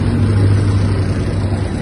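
A Kubota GL-240 Japanese mini tractor engine idles steadily with a low, continuous hum and faint mechanical rumble, close by, with no talking.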